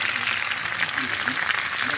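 Potatoes fry in plenty of fat or oil in a pan, with a steady, close hiss and crackle of sizzling that continues throughout.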